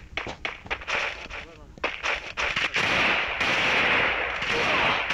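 A rapid string of gunshots in the Free Fire mobile shooter snaps out sharply and close, followed by a dense burst of fire, with someone talking over the shooting.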